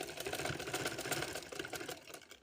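A sewing machine stitches lace onto a dupatta, running continuously with a fast, even needle chatter, close and steady throughout, then stopping at the end.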